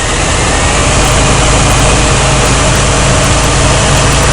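A 1992 GMC 1500 pickup with a 4.3 liter engine runs loud and close with a misfire, a dense steady rumble with an uneven, stumbling pulse throughout.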